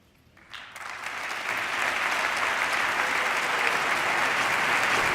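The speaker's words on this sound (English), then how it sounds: "the whole House jumped to its feet and applauded" Members of the House of Congress rise in a standing ovation during a presidential State of the Union address, the applause swelling from a quiet start into a loud, sustained roar of clapping from a large chamber crowd.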